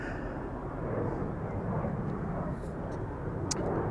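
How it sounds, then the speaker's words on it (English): Low, broad roar of jet airliner engines at Amsterdam Schiphol Airport, steady and somewhat distant, a continuous rumble filling the low end for the whole stretch, with a few faint clicks on top. "A nice mix of different airplane types and sizes and sounds"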